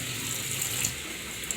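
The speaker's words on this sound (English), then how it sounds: "Now I'm going to turn the water on." Water runs steadily from a kitchen tap into a sink while breakfast is cooked, a continuous close hiss with no talking over it.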